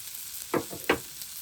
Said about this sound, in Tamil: இதை தாளிப்பேன்.